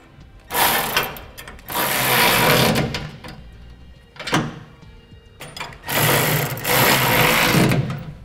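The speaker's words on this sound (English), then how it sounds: "we'll go ahead and tighten down our outside bolts here on the end." A power impact tool tightens the outside gooseneck hitch bolts on a 2015 Ford F-250 Super Duty, in three loud, close bursts of buzzing rattle with short pauses between.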